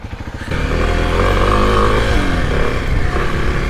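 A Kawasaki KLX 300 dirt bike engine cranks briefly, then catches and settles into a loud, close, steady idle with slight revving, heard alone.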